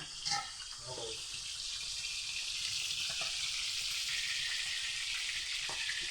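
Fish fries in a hot pan, a dense and steady hiss that runs unbroken from start to finish, with a few faint knocks early on.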